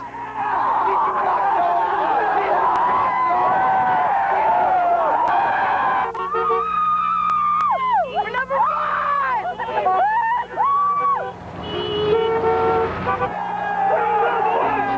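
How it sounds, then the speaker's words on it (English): Street celebration on campus after Maine's 1993 hockey national championship win: loud cheering and screaming crowds with whoops, car horns and honking, and people shouting nearby, all in a dense festive roar. "where the crowds filled the campus streets"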